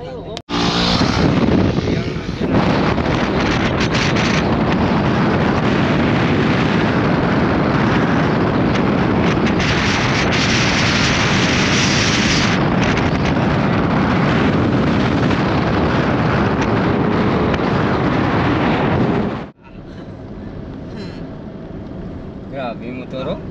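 A motorcycle engine roaring loud and close with heavy wind buffeting for about twenty seconds, then cutting off abruptly to a quieter background.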